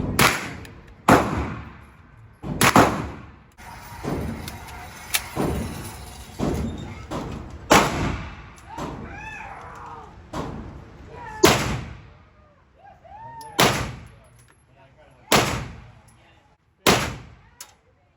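Compact pistol fired at an outdoor shooting range: about a dozen loud, sharp shots spaced a second or two apart, each ringing out briefly, with faint background noise and chirps between them.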